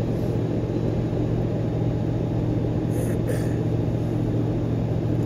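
Vehicle cruising down a highway on 33-inch tires, heard from inside: a constant broadband road and tire roar with a low hum, even and steady throughout.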